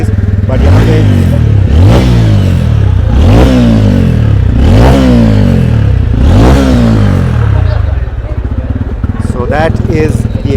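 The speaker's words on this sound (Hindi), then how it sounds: "काफ़ी यूनिक एग्जॉस्ट नोट लग रही है ये." A TVS Ronin motorcycle engine revved five times in a regular rhythm, each blip swelling and falling with a deep exhaust note, loud and close, before settling into a lumpy idle.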